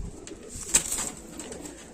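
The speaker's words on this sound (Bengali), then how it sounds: "অ্যাক্টিভ পায়রা আছে, একদম কি ছটফট করছে দেখুন পায়রা" Pigeons at a pigeon market, with one brief coo standing out over a low, steady murmur of background noise.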